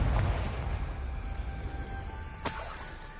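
Confringo explosion spell in the video game Hogwarts Legacy, a loud booming blast that decays into a ringing tail, followed by a sharp shattering crack.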